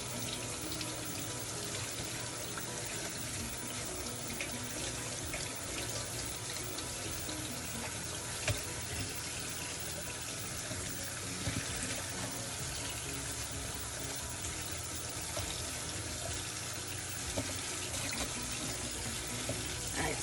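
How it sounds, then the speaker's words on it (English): Tap water runs steadily from a faucet into a sink while a tie-dye shirt is rinsed, a continuous close splashing hiss with no talk over it. "So I'm going to turn the water off."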